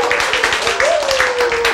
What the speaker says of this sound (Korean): 박수를 치자